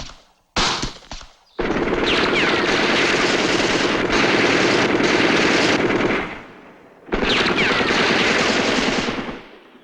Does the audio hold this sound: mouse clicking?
no